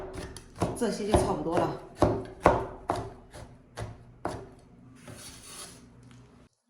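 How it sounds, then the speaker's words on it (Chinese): Knife chopping chocolate on a cutting board for homemade filled cookies, about nine sharp, steady chops that fade toward the end, with a brief voice speaking between them. "我们再次给它切碎"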